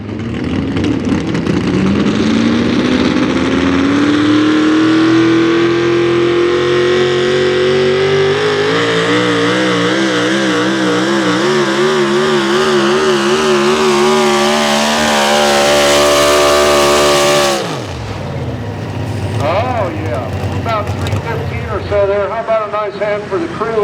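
A pulling truck from Bunker Hill roars at full throttle during a sled pull in a Pennsylvania class. The loud engine climbs and wavers for about seventeen seconds, then cuts off abruptly, and an announcer talks over and after it.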